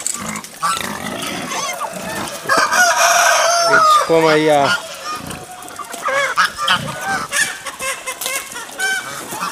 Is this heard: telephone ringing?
no